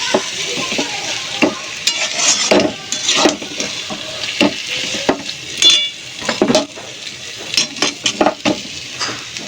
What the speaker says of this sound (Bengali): মোচাটা একটু ভাজা ভাজা করব